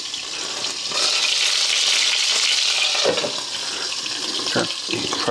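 Meatballs fry in a pan with a constant loud sizzle, and soft clinks and scrapes break through the hiss now and then.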